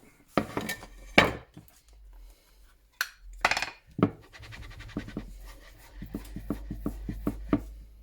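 A glass sheet set down and shifted on a work surface beside a fired brick, giving sharp clinks and scrapes in clusters, then a run of lighter repeated taps and rattles, close and fairly loud.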